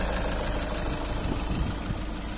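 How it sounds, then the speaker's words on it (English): A 2.0-litre VW Golf GT three-door diesel hatchback idles in a recently serviced engine bay, giving a steady, even rumble that holds at a constant level throughout with no talk. "nice and clean engine bay, recently serviced, engine sound very nice and smooth"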